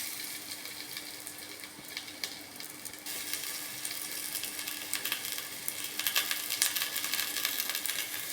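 Marinated fish pieces frying in a Healux pan, a steady close sizzle with light crackling and spitting that swells louder and busier toward the end, no voices.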